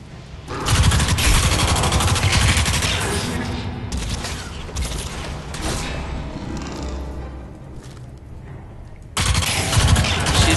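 Gunfire in the video game Crysis 2: loud, sustained rapid automatic bursts and thuds, nearly continuous across the clip with a brief lull before resuming.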